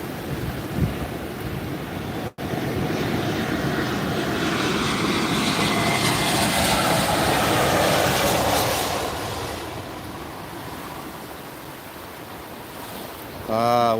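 A passenger airplane comes in to land at a beach airport in the Philippines, its engine roar building to a loud sustained rumble over crashing surf, then fading as the waves continue.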